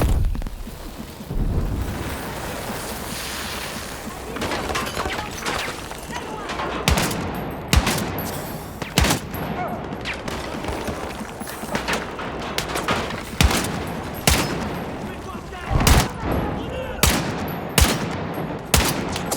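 Gunfire in the video game Battlefield 6, sharp bursts and single shots cracking irregularly over a rumbling battle bed, growing denser and louder in the second half, with speech in the mix.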